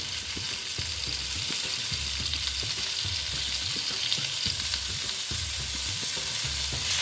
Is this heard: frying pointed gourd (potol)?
yes